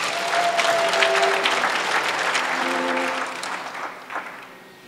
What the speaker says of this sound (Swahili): Tupigie makofi Mungu.